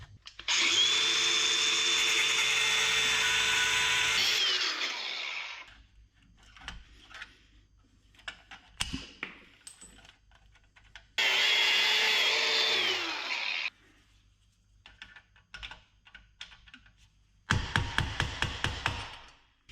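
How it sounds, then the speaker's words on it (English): An angle grinder cuts pieces off a clutch pedal assembly in three loud, close bursts: a long whine first, then two shorter runs, with metallic clanks and handling noise in the gaps and no talk. "I'm going to get the grinder out, and we're going to cut these pieces off and open up these holes."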